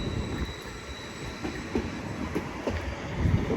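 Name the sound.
train passing at Chelmsford station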